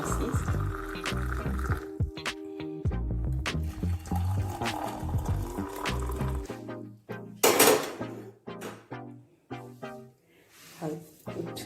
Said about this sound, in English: I'll pour water